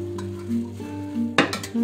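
Freshly cooked rice for plain Chinese fried rice being gently turned in a pan, soft scrapes and light clinks of a utensil against metal, with a brief louder scrape near the end, close by over a low steady hum.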